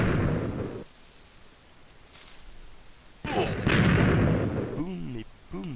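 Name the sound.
explosions in Minecraft video game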